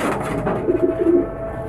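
A male pigeon coos while chasing a female during the breeding season. The soft, throaty coos come close and clear in a short run of repeated notes over a low background hum.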